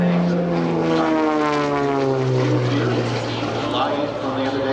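Beechcraft Bonanza propeller airplane at the EAA AirVenture airshow: a loud, close engine drone with a falling pitch as the plane passes, steady throughout with no talk.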